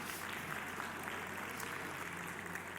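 An audience at an afternoon startup-event stage in Bogotá claps in a steady, moderate-level wash that sounds fairly distant, with no one speaking over it.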